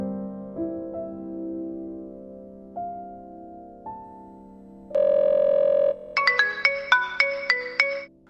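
A phone ringtone plays: a melody of sustained electronic tones, then a rapid series of bright, repeating chimes, clear and close.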